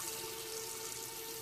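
Water runs steadily from a bathroom tap, a continuous close hiss and splash that holds without a break.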